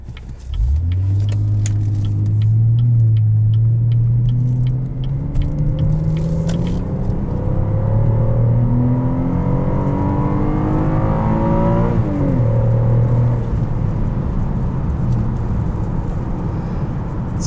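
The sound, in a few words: 2016 Chevrolet Impala LTZ accelerating on road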